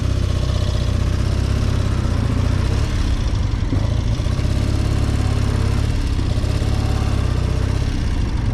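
A 1978 BMW R80/7 ex-police motorcycle on a test ride, its boxer engine giving a steady, loud, continuous drone mixed with wind rush throughout.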